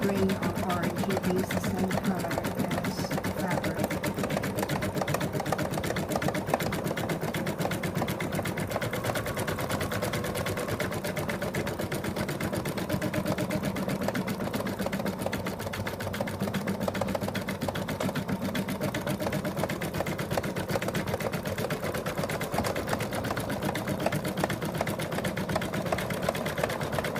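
An embroidery machine stitching a cat design onto fabric, a fast, steady mechanical chatter that runs unbroken at close range, with a voice speaking faintly underneath at times.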